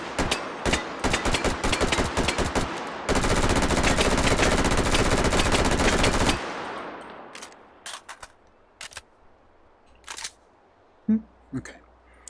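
Rapid automatic gunfire from a weapon in the VR shooting game Hot Dogs, Horseshoes & Hand Grenades, with dense bursts and a sustained volley, then scattered single shots and clicks toward the end, loud and close, with no talking.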